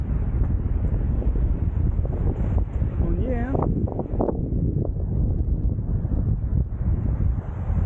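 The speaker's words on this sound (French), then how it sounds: "parce qu'il y a trop de vent" Strong wind buffets the microphone throughout with a loud low rumble in a Portuguese town centre, while a person speaks briefly in French over it.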